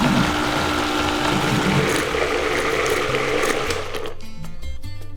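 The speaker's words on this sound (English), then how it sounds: "I'm gonna put it right into our blender." A kitchen blender whirs loudly as it purees cilantro, roast garlic, lemon juice and mayo into a spicy aioli, a dense steady churning that runs for about four seconds before stopping.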